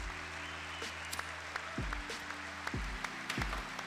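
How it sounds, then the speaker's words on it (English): An audience breaks into applause for Donald Trump: steady, moderately loud clapping from many hands fills the clip, with a low hum running underneath. "can we get a round of applause for Donald Trump?"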